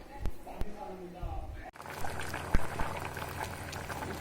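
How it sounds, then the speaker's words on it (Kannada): Raw banana pieces boil in a pot of water for vada, a steady close bubbling and rolling simmer with a few sharp clinks early on, and a voice speaks briefly at the start. "ಈ ಥರ ಕಿತ್ತಾಕೊಂಡು ಬೇಯಿಸ್ಕೊಳ್ಳೋಣ ನೀರಾಕಿ"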